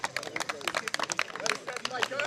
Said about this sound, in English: Round of applause to the captain